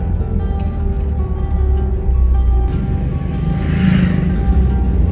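Rumbling road traffic near the Jim Corbett entry gate in Kotdwar, with a tractor among the vehicles: a loud, continuous low drone of engines and tyres, swelling as a vehicle passes close.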